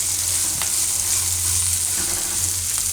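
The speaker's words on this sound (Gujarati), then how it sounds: "ધીમો ગેસ રાખીને થોડીક વાર આ રીતે પકાવી લેવાના." Methiya marcha chilies frying in oil over a low gas flame, giving a continuous close, even sizzle with a few faint clicks of stirring and no voices.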